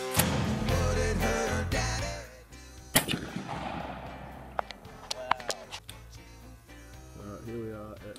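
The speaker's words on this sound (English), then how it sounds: "here we are at the shooting range" Gunfire at an outdoor firing range, sharp, loud reports standing out over a background of music and ambient noise, several cracks spaced irregularly across the scene.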